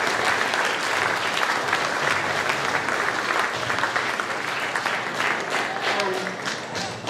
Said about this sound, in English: let's give all of those thank yous a round of applause and clap for yourselves because you're all awesome.